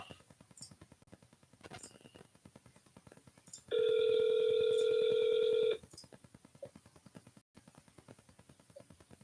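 A telephone keypad sends a steady two-second DTMF dialing tone during a real estate cold call, standing out clearly against faint ticking and low background noise before and after.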